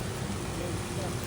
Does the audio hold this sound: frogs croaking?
no